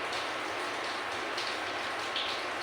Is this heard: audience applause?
no